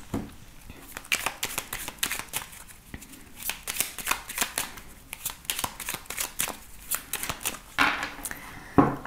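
A deck of tarot cards is shuffled and cut by hand, a steady run of crisp riffling flutters and soft slaps close up, with a few quiet snaps toward the end.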